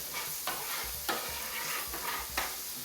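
Beef searing on a hot CampChef flat top griddle, a steady sizzle broken by several scraping, stirring strokes of a spatula at close range, with no talking.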